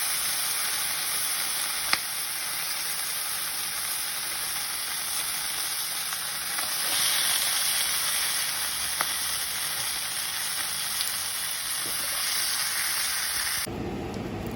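Restaurant-style tandoori chicken tikka pieces sizzling on a grill: a steady, close hiss and crackle of frying that carries on evenly before shifting abruptly near the end.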